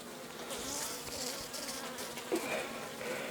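Honey bees buzzing during an inspection of a hive of local Ukrainian breeds, a dense, continuous close-up drone of many insects filling the whole stretch with no talking.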